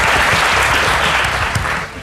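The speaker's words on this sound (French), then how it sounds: "On applaudit le faux Alban Ivanov également." A crowd applauds a celebrity look-alike at a live show, a dense, loud wash of clapping that holds steady and then eases slightly near the end.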